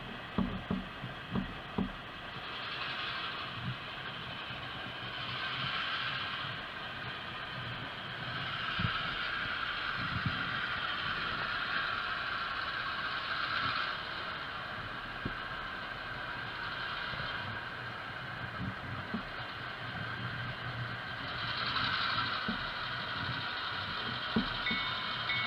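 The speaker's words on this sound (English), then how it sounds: "It's a really nice locomotive. Runs very smoothly, pulls actually a fair amount for its size" HO scale model locomotive with headlight and ditch lights running smoothly on a layout, giving a steady low mechanical whir with faint gear and track clicks throughout, a few louder clicks at the start, and no talking.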